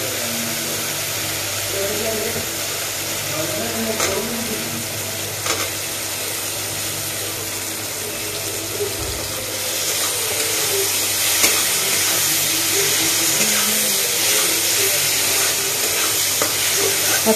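Paneer fries with spice masala in a pan, a continuous close sizzle with occasional scraping stirs, the hiss swelling louder partway through; a voice speaks intermittently over it.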